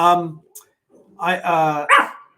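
Small dog barking indoors at close range, a few harmonic yaps in quick succession with short pauses between them, loud and clear with no talk over them.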